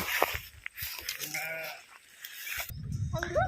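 Sheep bleat a few times at a distance, one long wavering cry standing out amid faint outdoor noise and scattered low voices.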